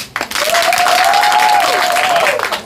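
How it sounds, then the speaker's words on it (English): An audience at a Black Pride book tour event in a Dallas lounge gives a round of applause, loud dense clapping and crowd noise for a few seconds, with a voice heard over it. "round of applause for love."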